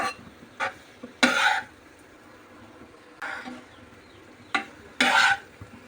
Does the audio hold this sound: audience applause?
no